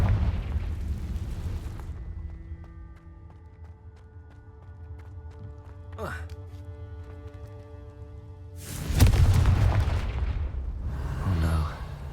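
A Confringo blasting spell goes off in the Hogwarts Legacy video game: a loud, broad explosive burst erupts over sustained game music, followed by a rumbling tail and a second, smaller crackling flare.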